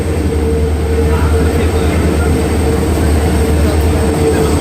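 Steady, loud rolling rumble of the Mumbai CSMT–Dhule Express, hauled by a diesel locomotive, running continuously between CSMT and Kalyan, with a constant drone and no break throughout.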